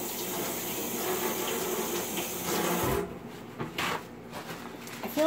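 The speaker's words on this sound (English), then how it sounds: "Let me wash my hands." Hands are washed under a running kitchen tap, a steady splashing stream for a few seconds that gives way to broken splashes and drips as the hands move through the water.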